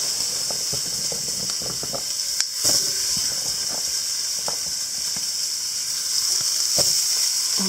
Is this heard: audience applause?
no